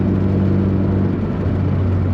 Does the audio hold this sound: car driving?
yes